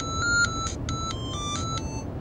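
Electronic phone ringtone of short repeated tonal beeps in bursts, fairly clear over a steady background hiss, with no talking.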